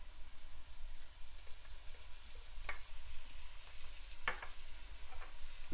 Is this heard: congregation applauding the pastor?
no